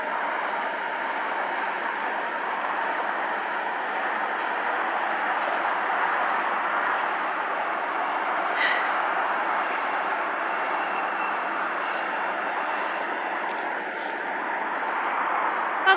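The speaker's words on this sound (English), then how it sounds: "Oh, we got a train coming. We're gonna have some extra noise." A long, steady rumbling roar of a heavy freight train passing nearby, constant and unbroken, with faint squeaks rising briefly.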